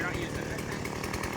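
A chainsaw running steadily while cutting wood from underneath, close and loud throughout, with a person talking over it.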